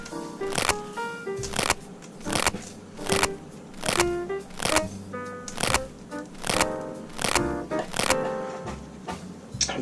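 Sage leaves being torn or snipped into small bits with scissors in a home kitchen, a run of crisp close clicks and rustles coming in irregular bursts over roughly ten seconds, with faint background noise.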